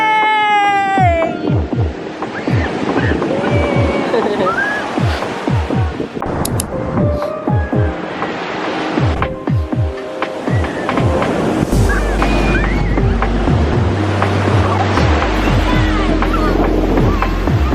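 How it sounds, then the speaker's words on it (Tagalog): Strong surf at Sabang Beach in Baler, Aurora, during stormy weather, a continuous roaring wash of waves with gusty wind buffeting the microphone, a few voices and brief whistle-like tones mixed in. "Ang lakas ng alon."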